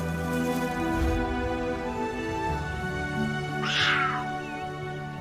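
Young cheetah cubs calling, a high chirping, meow-like cry that rises briefly and stands alone over a steady low background rumble.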